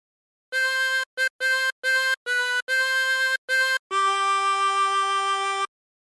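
Phrase two of a song played on a harmonica as a run of short, clear reedy notes that ends in one long held tone, close and alone with no talking.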